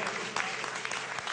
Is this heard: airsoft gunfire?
no